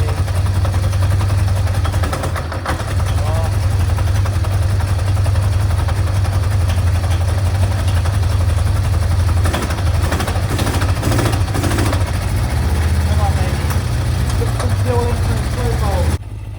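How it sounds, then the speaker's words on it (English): A Kawasaki Zephyr 750 motorcycle with no choke connected cranks and runs, its engine a loud, low, steady rumble that bogs down and sputters unevenly, with someone talking over it. "So there's the issue, still remains. Bogging down."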